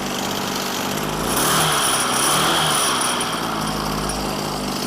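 A small engine fitted to a bicycle with a homemade jugaad clutch revs loud and close, its buzzing drone swelling briefly and then settling into a steady high-pitched whine.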